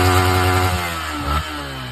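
A motorcycle engine with an aftermarket exhaust idles with a deep, throbbing note, then gives a short rev blip before settling back, loud and close, with no voices.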